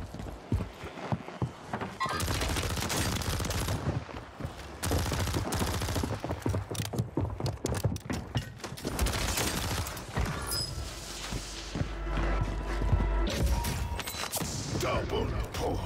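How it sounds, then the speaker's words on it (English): Gunfire in the video game Warzone, fired with an SMG: dense, continuous bursts of shots and game action noise run throughout, with some crowded mechanical clatter mixed in. "Shots back this way."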